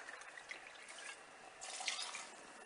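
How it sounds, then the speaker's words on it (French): Water pouring from a tap into a pot for fish soup, a faint, continuous splashing trickle that swells briefly near the end. "on va ajouter de l'eau. Là, il y a 2 litres d'eau"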